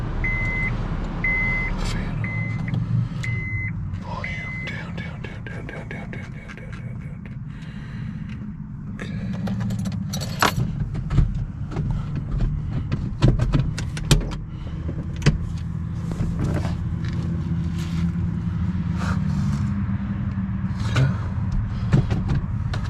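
A 2003 Honda Civic, just fitted with a new catalytic converter, is started: a chime beeps repeatedly at first, then the engine turns over and settles into a low idle with clicks and thumps nearby.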